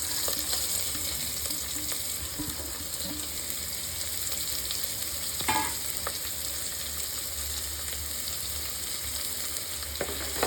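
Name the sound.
onion sautéing in a pan for chicken kulambu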